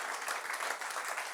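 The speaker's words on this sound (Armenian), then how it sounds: "եկ բարձր ծափարենք" A church congregation claps together in a dense, steady burst of applause that sounds a little distant, with no talk over it.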